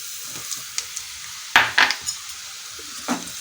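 Kashmiri chilli powder sizzling in hot oil for mango pickle, with a spoon scraping and stirring the pan in a few sharp clattering bursts over a soft continuous fry.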